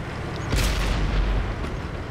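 A tank gun firing in a tank video game, a single heavy boom with a rumbling low tail over steady engine and ambient noise.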